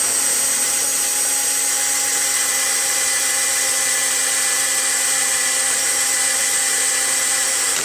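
A power-driven wire wheel scrubs old gasket material off a metal mechanical fuel pump from a Cub Cadet lawn and garden tractor, a loud continuous high whine held close and steady.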